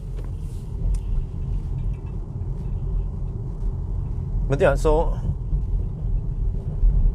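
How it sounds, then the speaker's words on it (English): Steady low road rumble fills the cabin of a Polestar 2 long-range rear-wheel-drive car on a Sunday drive, continuous and loud throughout, with a brief spoken remark rising over it midway. "it's just constant noise from the road"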